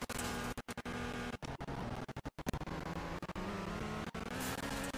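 A car revving and pushing uphill on a slippery offroad track in the driving game Car Driving Indonesia, a steady engine drone with brief cut-outs as the throttle lifts, fairly quiet and without talk.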